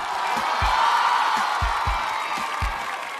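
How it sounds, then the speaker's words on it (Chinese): A studio audience at a Chinese street dance competition show breaks into sustained, dense applause and cheering, a continuous wash of clapping with a few low thumps underneath. "鸡皮疙瘩起来了，掌声送给他们。"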